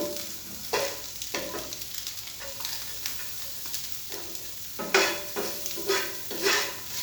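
A spoon stirs a beaten egg and garlic mix with chopped green chilli in a pan over low sizzling, with repeated scraping strokes that grow louder and quicker toward the end.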